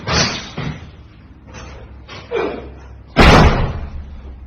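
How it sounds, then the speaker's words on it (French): A door slams shut with a loud, heavy bang near the end, after several softer thumps and knocks of it being handled. "Fermez la porte doucement."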